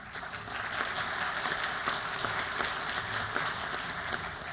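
An audience at a Mexican senate forum applauding, steady crowd clapping held at an even level for several seconds with no voice on top.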